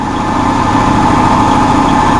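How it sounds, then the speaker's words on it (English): Chevy-powered boat in the Florida Keys running on a single engine after the other overheated: a loud, steady idling drone with no breaks. "So we're running on 1 engine."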